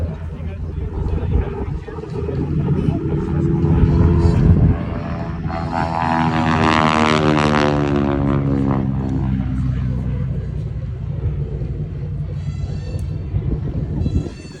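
An SNJ propeller trainer in Navy colors flies past at an airshow, its engine drone swelling and sweeping in pitch as it passes, steady and loud, with voices talking over it throughout.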